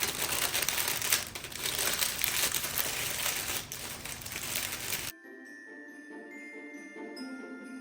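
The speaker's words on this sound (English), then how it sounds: "So you just take parchment paper for the mini loaves, and I just kind of pull it all together into the middle." Parchment paper crinkles and crumples continuously as it is gathered around sourdough mini loaves, close and fairly loud for about five seconds before dropping to a quiet room tone.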